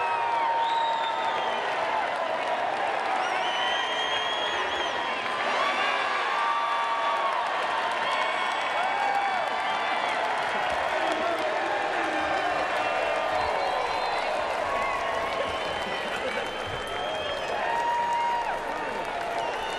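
A baseball stadium crowd cheers and chants in a sustained, dense roar of voices and applause that fills the whole stretch without a break.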